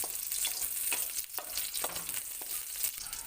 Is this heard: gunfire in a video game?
no